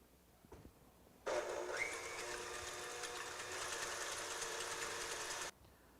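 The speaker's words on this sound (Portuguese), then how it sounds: "Agora na batedeira vou adicionar o restante do creme de leite fresco para bater ele a" A stand mixer whips fresh cream to a semi-whipped stage, its motor starting abruptly and holding a steady, even whirring hum for about four seconds before cutting off into quiet.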